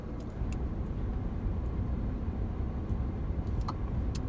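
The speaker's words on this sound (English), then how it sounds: "I'm gonna start driving home" Steady low road rumble from inside a car driving home at night through a city neighborhood, a continuous hum with a few faint clicks and no talk.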